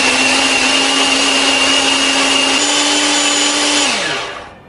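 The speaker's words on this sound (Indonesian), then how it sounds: "Bumbu ini akan kita haluskan menggunakan chopper ya." An electric food chopper whirs steadily, grinding curly chili, shallot and garlic into paste, a loud close motor drone with a slight pitch shift before it winds down at the end.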